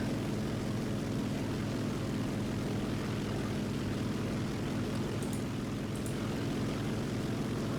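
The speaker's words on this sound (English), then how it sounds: "There's another plane coming in." Propeller fighter planes drone steadily in War Thunder, a loud continuous engine hum with a throbbing low pulse running the whole time, plus a couple of brief faint high clicks near the end.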